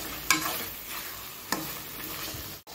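A spoon stirs salt into pumpkin masala frying in oil, the steady sizzle of the pan broken by a couple of sharp scraping clicks.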